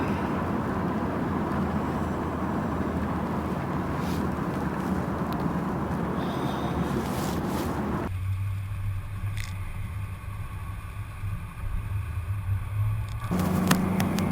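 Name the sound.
1965 Ford Mustang 289 V-8 convertible driving on freeway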